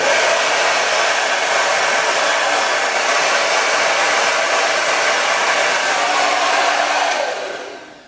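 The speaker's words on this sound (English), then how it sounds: "You want to blow dry it until it's mostly dry" Hair dryer blowing on hair while styling beachy waves, a loud steady whooshing roar that runs unbroken for several seconds before switching off and winding down.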